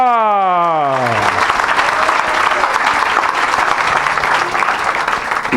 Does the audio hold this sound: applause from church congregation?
yes